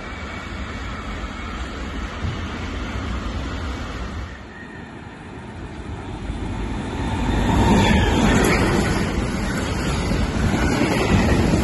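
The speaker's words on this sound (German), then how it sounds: "Und hier sehen wir jetzt wieder die Regionalbahn 20, die genau andersrum fährt" Regional train RB 20 passing through Stolberg (Rheinland) station on the Cologne–Aachen line, a steady broad rumble of wheels and rail noise that swells louder in the second half, with no voices.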